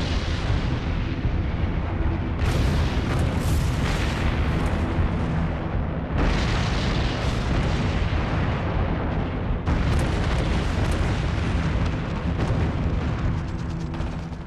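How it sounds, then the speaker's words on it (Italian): During the Second World War, Allied bombers drop tons of bombs on the Monte Cassino monastery, producing loud, continuous rumbling blasts that come in heavy waves with no talking. "Oltre 220 bombardieri alleati sganciano 420 tonnellate di bombe sul monastero."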